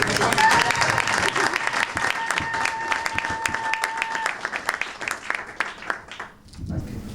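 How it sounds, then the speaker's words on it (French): A wedding crowd bursts into sustained, dense applause, loud and steady, then tapers off toward the end. "Nous allons d'abord applaudir"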